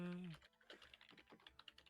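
Keyboard typing, a rapid patter of light key clicks that follows a brief voiced sound at the start and runs steadily at low volume.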